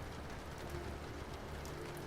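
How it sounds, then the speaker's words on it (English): Steady rain falls through a dark stone shaft inside a castle into a pool below, a soft continuous hiss with dense drops at an even level throughout, no voices. "Rain descends through darkness before reaching the pool."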